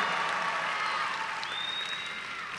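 Applause for a graduating high school class at an outdoor-style ceremony, a steady crowd of clapping that slowly fades slightly, with a brief whistle-like tone rising midway.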